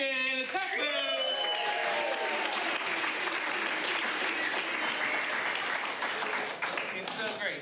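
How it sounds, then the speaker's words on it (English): An audience at a live show breaks into loud, sustained applause and cheering, with voices shouting over dense clapping throughout. "Give a warm round of applause to Dan Humke, the tech booth!"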